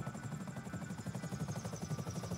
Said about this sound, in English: I almost flew my fucking helicopter into the fucking ocean